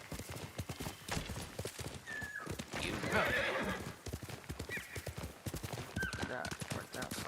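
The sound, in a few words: horse hooves clip-clopping in video game Ghost of Tsushima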